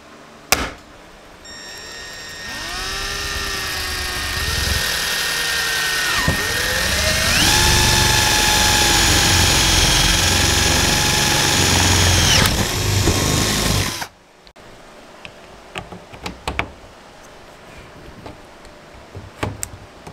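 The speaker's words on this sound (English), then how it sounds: "Ladies and gentlemen, we installed our rivets on the outside" Power tool whirring and shifting pitch while rivets go into Lexan polycarbonate car door panels, a loud, continuous close whine for about fourteen seconds that stops abruptly, leaving quiet clicks and handling noise.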